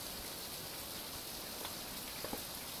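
Steady rain falls in a survival video game, a constant soft hiss with a few faint drop ticks and no talking.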